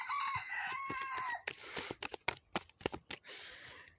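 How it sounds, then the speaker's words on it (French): A rooster crows once in a drawn-out call, followed by a run of sharp clicking and rustling sounds; no voices are heard. "C'est le coq qui confirme."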